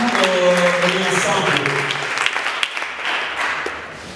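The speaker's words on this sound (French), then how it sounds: "applaudissez pour les élèves du sanctuaire" An audience claps for the students of a sanctuary group at a training session, the applause dense and steady for several seconds before thinning out, with a voice and some tonal sound mixed in.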